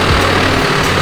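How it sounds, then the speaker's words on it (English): A tractor pulls into a service station in North Queensland, its loud, steady low engine rumble filling the brief moment close by. "the tractor pulls into the service station"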